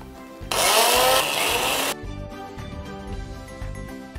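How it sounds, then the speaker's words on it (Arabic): An electric blender whirs loudly for about a second and a half, mixing a red-fruit coulis with sugar and half a squeezed lemon for a panna cotta dessert, then cuts off abruptly. "ونميكسيو لو كولي تاعنا"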